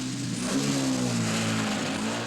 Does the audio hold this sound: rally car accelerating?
yes